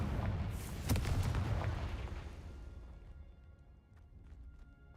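A Confringo spell blast in Hogwarts Legacy, one loud booming explosion near the start whose rumble slowly fades away, with a few faint clicks after it.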